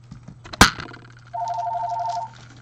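A sharp crack up front, then a steady two-tone electronic phone ring trilling for about a second, fairly clear against a quiet background hum.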